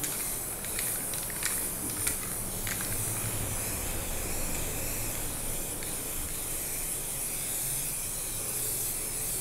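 Steady hissing spray of matte paint being applied as a coat to a wooden piano stand, a continuous close airy rush lasting throughout with a few brief sharper bursts near the start.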